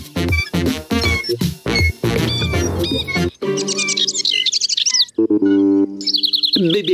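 A cartoon baby bird chirps in bright, rapid tweets and trills, loud and close, in quick bursts with short pauses and no speech.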